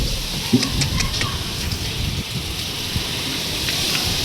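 Heavy rain pours down on a farm field in a steady broadband roar, with gusty storm wind rumbling underneath and a few faint voices in the background.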